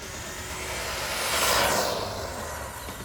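An HPI Savage Flux XS RC truck runs on 3S power, its electric drivetrain giving a rushing, whining roar that swells as it passes close around the middle, then eases off. No one speaks.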